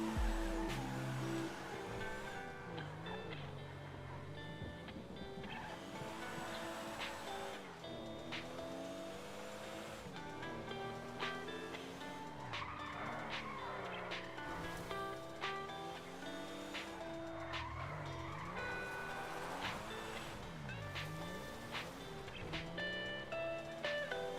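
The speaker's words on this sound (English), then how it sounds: "This is a really terrible car for trying to do donuts in." A car in a video game does donuts, its tires squealing and skidding in long wavering sweeps over a steady engine drone, loud and continuous throughout with no talk.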